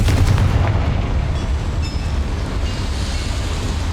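A Confringo fire spell blasts off in Hogwarts Legacy, a loud booming burst followed by a sustained roaring rumble that fills the clip.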